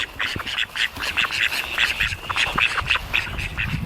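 Ducks on a homestead near a freshly dug, water-filled trench quack loudly and repeatedly in a rapid, overlapping chorus close by, with faint low rustling beneath.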